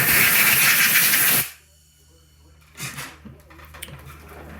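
A loud, steady blast from a compressed-air blow gun drying a Honda GCV190 carburetor part hisses for about a second and a half, then cuts off, followed by a few faint clicks and knocks.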